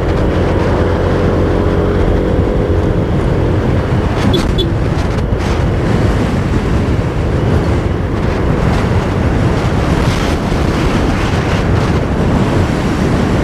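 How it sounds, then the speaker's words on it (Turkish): Strong wind roars continuously against the microphone at a house roof fire in Karşıyaka, İzmir, a loud, steady buffeting rush filling the whole stretch with no talk. "rüzgar aşırı derecede fazla burada, bakın"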